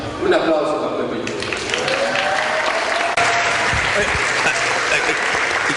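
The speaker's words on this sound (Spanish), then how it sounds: "Un aplauso para Pepe." An audience claps in sustained, dense applause for Pepe at a live show, steady and loud throughout, with some crowd voices mixed in.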